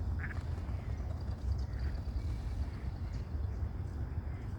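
Ducks outdoors give a few quacks, a near call early on and fainter ones later, over a low steady rumble of background noise.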